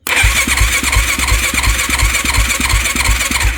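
A Yamaha YFZ450 ATV engine cranks and catches, then runs at a steady, loud, rapid chug with a high whine above it.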